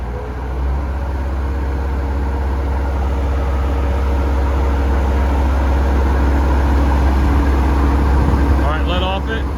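A Bobcat 853 skid steer driving a hydraulic FMC GM-72 Sidewinder 6-foot brush hog roars loud and steady up close, a continuous heavy engine drone that holds level throughout.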